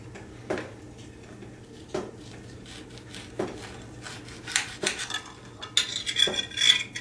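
A knife cuts into a Trovita orange from a lean-to greenhouse, giving a few soft separate taps and scrapes followed by a busier, denser stretch of slicing and rubbing near the end.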